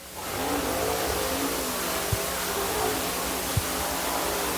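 A dirt late model race car at Dixie Speedway runs a qualifying lap, its engine a faint, steady distant hum beneath broad crowd and track noise, with two brief sharp thumps.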